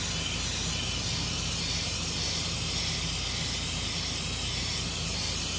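An airbrush sprays thinned craft paint onto a tumbler, a constant close airy hiss that holds at an even level from start to finish with no speech.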